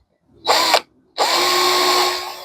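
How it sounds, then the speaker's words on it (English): A power drill enlarges a hole in metal to 6mm on a Fiat X1/9 twin DCNF air-filter part: a short whirring burst, a brief pause, then a longer steady high-pitched run, close and loud with no talking. "So I'm just going to drill through this"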